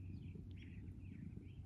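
A small bird indoors gives a few faint, high chirps scattered over a low, steady room hum, quiet and without talk.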